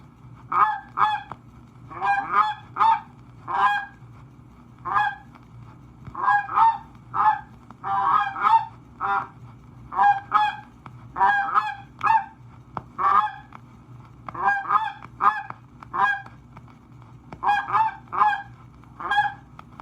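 A goose call blown in irregular bursts of honks, imitating a flock of geese, with varied tempo and short pauses between groups.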